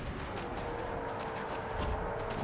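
Massed battlefield gunfire and cannon blasts from deck gunner units in Total War: Warhammer, a continuous rumbling din of repeated shots and booms at a steady, fairly faint level with no clear pauses.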